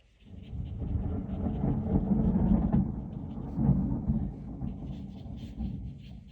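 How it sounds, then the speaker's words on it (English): Dense, soft rain from a British summer thunderstorm patters steadily close by, with a low rumbling undertone swelling and fading across the stretch. "sorry if you can hear the rain."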